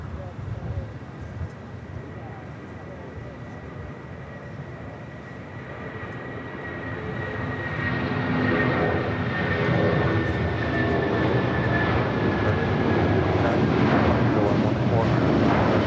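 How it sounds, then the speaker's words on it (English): A United airliner in retro Continental livery touches down at LAX, its engine roar building from a distant rumble into a loud, broad rush, with people talking over it. "I just saw a retro touching down here on the south side, the old Continental"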